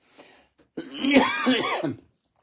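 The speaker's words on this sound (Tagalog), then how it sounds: "Ubo tuloy ako." A single harsh throat-clearing cough, close and fairly loud, lasting about a second, with a faint breathy sound just before it.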